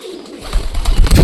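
Pet wild pigeons cooing in a brief, close, fairly loud burst of throaty calls.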